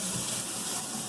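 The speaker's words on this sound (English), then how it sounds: "I'm going to fill it up with water" Tap water pours steadily into a container holding brass cartridge cases for wet tumbling, a continuous close gushing fill with no pauses or talk.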